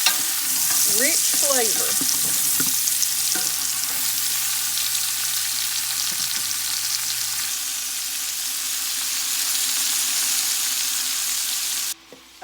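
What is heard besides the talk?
sausage and hog jaw frying until golden brown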